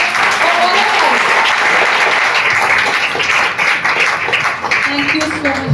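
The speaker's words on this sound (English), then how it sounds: "A big round of applause for all of us." A crowd applauds at a Foundation Day function, with loud, dense clapping that stays strong for several seconds and then grows more uneven, while voices murmur underneath.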